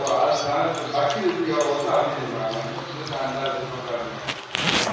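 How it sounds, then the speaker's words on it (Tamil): Tomato being mashed by hand in tamarind water for a home remedy, giving steady close wet squelching and sloshing, with a voice faintly under it. "தக்காளியை புளியோட பிசைஞ்சு விட்டுக்கோங்க."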